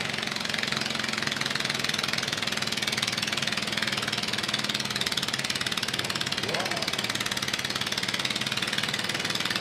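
A garden tractor engine drones and knocks steadily in the poor boys class at the Franklin County Fair 4 State Garden Tractor Pull, loud and continuous, while an announcer talks over the noise.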